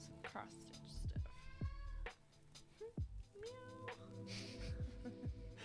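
A cat meows several times in drawn-out, rising and falling cries, close by, with a person's voice heard faintly between them.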